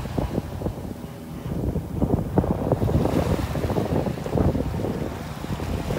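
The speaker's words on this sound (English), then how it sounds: "Nice breeze up here." Wind and surf on a beach in North Naples, Florida, a steady blustery rush with microphone buffeting and breaking waves rolling continuously and loudly, no voices.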